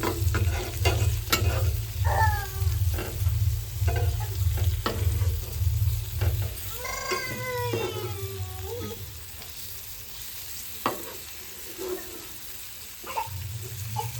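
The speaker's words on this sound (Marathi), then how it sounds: "दुसऱ्या साईडून जी आहे मच्छी आपली व्यवस्थित अशी फ्राय झालेली आहे मस्तपैकी" Fish frying in a pan on a home gas stove, a steady close sizzle with stirring and clinks of utensils, the frying fading and going quieter toward the end.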